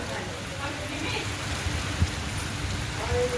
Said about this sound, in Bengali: অসাধারণ বৃষ্টি হচ্ছে